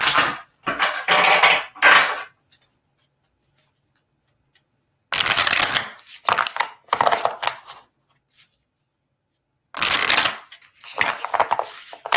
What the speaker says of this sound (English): I'm going to shuffle up an oracle card first